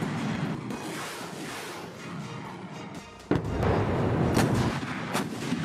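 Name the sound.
Chinese PLA artillery firing rockets and howitzers in training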